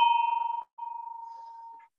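A single bell struck twice to formally open a meeting, each ring a clear, steady pulsing tone that holds and then cuts off, heard close and alone.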